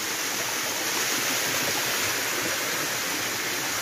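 Waterfall hidden in a jungle valley, a steady, dense roar of rushing water filling the whole clip, loud and close with no break or voices.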